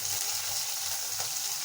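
Chopped onion sautés in a hot pan for red poha upma, giving a steady, close, even sizzle with a faint stirring scrape partway through and no talking.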